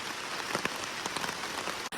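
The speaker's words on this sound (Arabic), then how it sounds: "شوفوا لنا شحال كتصب دابا ديال الشتا" Heavy rain pours down on a campsite, a loud, continuous drumming patter with no voices, filling the space from start to finish.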